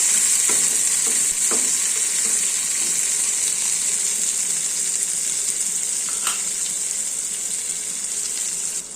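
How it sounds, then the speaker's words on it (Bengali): Raw green mango pieces fry in a pan over a medium gas flame, giving a steady bright sizzle throughout with a few scraping stirs, loud and close with no talking. "যে আমগুলো একটু ভেজে নেবো হালকা"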